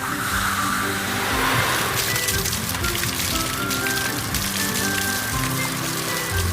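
Dense hissing spray of water from a fire truck pattering onto a hard surface, continuous and loud throughout, with a low engine rumble underneath.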